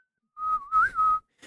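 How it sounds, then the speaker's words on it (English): A single whistle melody line from a folk pop song arrangement, one sustained, rounded, pure tone with a gentle bend, clear and upfront with nothing else beneath it. "So the whistle, nice and rounded."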